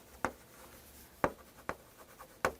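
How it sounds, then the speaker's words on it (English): A pen writes notes on paper with faint scratching, broken by a few sharp taps spaced about a second apart, close and alone without talk. "let's take a second to write that down"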